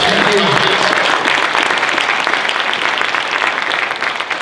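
Large crowd applauding at the PAX East 2020 gaming convention, a dense, loud, steady wash of clapping that fills the whole stretch, slightly thinning toward the end.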